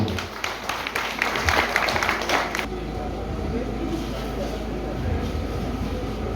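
An audience at a community forum on accessibility and development in Camp-Perrin, Haiti, bursts into brief applause, a rapid patter of claps lasting a couple of seconds before giving way to a low room hum.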